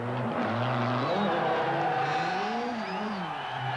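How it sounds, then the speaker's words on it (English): A Peugeot rally car at the 1985 Rallye Monte-Carlo roars past, its engine note rising and falling through gear changes as it nears and pulls away. "Saladin's Peugeot goes through in 3rd place"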